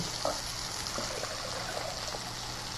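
Port wine pours into a stainless steel saucepan for a reduction, a soft continuous trickling stream, fairly quiet and close.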